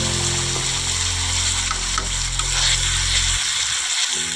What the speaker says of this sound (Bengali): দেখো মশলাটা ভাজা হয়ে এসছে, দেখো উপরে তেল ভাসছে।